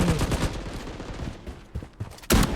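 Pistol gunshots ring out in the shooter game Blood Strike: a quick run of sharp cracks, then a brief lull, then a louder burst of shots near the end. No voices are heard.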